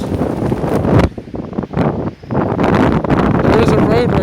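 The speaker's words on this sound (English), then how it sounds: "It's quite windy, quite blizzardy." Strong blizzard wind buffets the microphone in heavy gusts outdoors near a truck and camper on a snowy rural road, dropping briefly before roaring back, with someone speaking over it.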